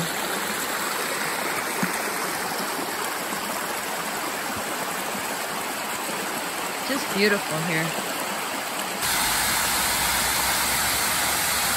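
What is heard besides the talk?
water sliding down a long rock slope, Hickory Run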